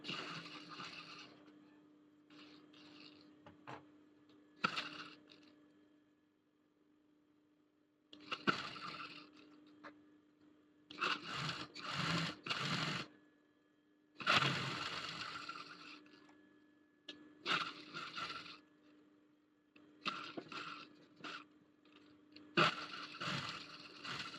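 A sewing machine runs stitches along a school uniform collar backed with cotton canvas, sounding as repeated short bursts of whirring separated by brief pauses, close and moderately loud.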